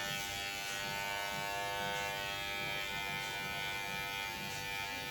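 Electric hair clippers run at a steady buzz, set to a zero blade for cutting a skin fade, a close, continuous drone with no talking.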